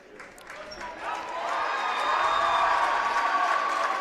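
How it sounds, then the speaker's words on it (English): At a men's college basketball game between UW-Eau Claire and UW-Superior, a gym crowd's applause and cheering rise and swell to a sustained roar, with a public-address voice speaking over it. "And a big round of applause"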